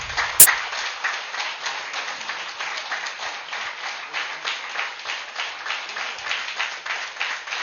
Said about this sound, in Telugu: ఒకసారి నిల్చొని చప్పట్లు కొడితే బాగుంటుందేమో